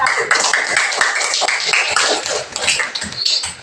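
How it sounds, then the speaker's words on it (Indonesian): Students in a classroom clap for a presenting group: busy, fairly loud clapping from several pairs of hands, uneven and choppy in rhythm, lasting a few seconds. "Kita berikan tepuk tangan dulu untuk kelompok 1."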